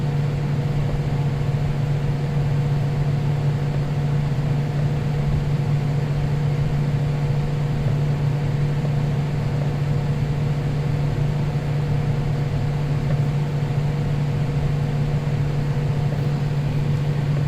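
A window fan beside a desk runs steadily, giving a constant whooshing whir with a low motor hum throughout and no talking.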